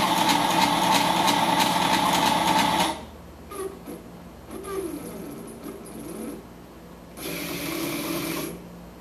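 A Sakai ML-360 mill converted to CNC under Mach3 control moves its axes with a steady motor whine for about three seconds, then goes quiet with faint shuffling before a second burst of drive noise near the end.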